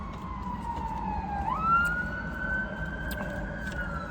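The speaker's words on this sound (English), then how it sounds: "as the siren goes by," A siren wails steadily over road noise in Attleboro, Massachusetts, its pitch dipping then rising as it passes by at moderate distance.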